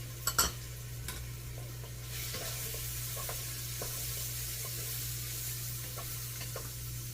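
Garlic sizzles steadily in a hot pan for a smoked brat beer cheddar soup, a continuous close frying hiss with a few soft clinks and stirring scrapes near the start, no voices.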